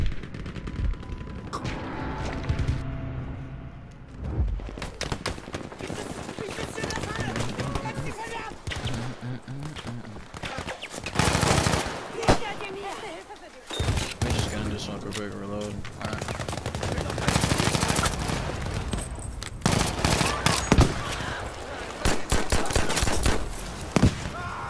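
Gunfire in the video game Battlefield V during a team deathmatch, bursts of automatic rifle shots and single cracks scattered throughout, some close and loud, under a player's occasional talk.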